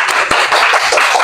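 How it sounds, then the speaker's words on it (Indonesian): Classroom applause from students clapping their hands, a short dense burst of many overlapping claps that stays steady and fairly loud for just over a second. "Kasih tepuk tangan."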